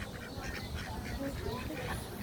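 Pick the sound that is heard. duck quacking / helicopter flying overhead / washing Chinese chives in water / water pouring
duck quacking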